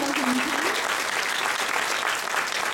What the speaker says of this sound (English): If I could have everyone applaud our nominees for 2010.